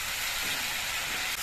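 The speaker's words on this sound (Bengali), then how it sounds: "এবার এর মধ্যে আমি আমগুলো দিয়ে দিচ্ছি।" Mango pieces drop into hot oil in a wok while cooking a mango and catla fish curry, giving a steady, dense, close hiss of sizzling that holds evenly throughout.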